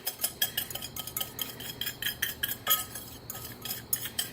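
A utensil scraping and clinking against a bowl while mixing vanilla pudding ingredients, quick irregular taps and scrapes close up, with no voices.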